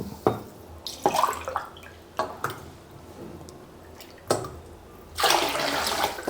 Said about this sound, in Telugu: ఇదే గ్లాస్ తోటి 6 గ్లాసుల నీళ్ళు పోయాలి